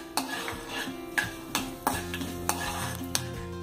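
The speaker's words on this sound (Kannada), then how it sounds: "ಉದ್ದಿನಬೇಳೆ ಸ್ವಲ್ಪ ಕಂದು ಬಣ್ಣ ಬರೋವರೆಗೆ ಹಾಗೂ ಸಾಸಿವೆ ಚಿಟ್ಪಿಟ ಅನ್ನೋವರೆಗೆ ಒಂದು 2 ರಿಂದ 3 ಸೆಕೆಂಡ್ ಫ್ರೈ ಮಾಡ್ಕೊಳ್ಳೋಣ" Urad dal and mustard seeds fry in hot oil for a bottle gourd stir-fry, giving a gentle sizzle. A spoon scrapes and taps the pan in a steady rhythm, roughly every half second, close by.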